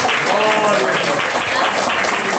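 Worshippers clapping praise to God in a Brazilian church service, a steady, loud patter of many hands with voices mixed in, filling the room for a couple of seconds.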